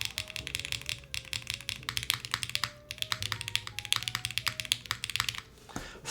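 Rapid, close typing on a GMK Voyage keycap set fitted to a top-mount mechanical keyboard, with dense clacky keystrokes running steadily throughout and a short pause near the end.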